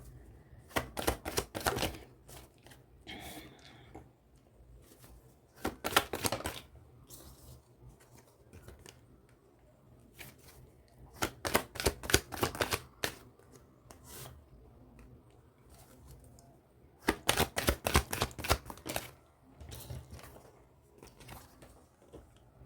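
Tarot cards being drawn and laid out on a table: four short bursts of quick papery rasping and flicking, separated by near-silent pauses, close and fairly soft.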